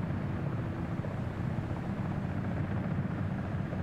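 Helicopter in the video game Comanche, a steady loud rotor and engine drone that holds at the same level throughout, with no talk over it.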